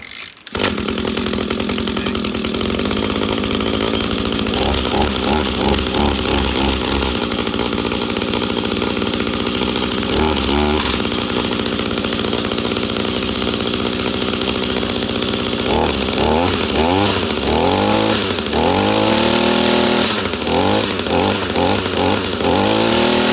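Echo SRM210 string trimmer with a newly replaced carburetor starts and runs continuously on choke, a loud, steady two-stroke buzz with several sharp rising revs toward the end.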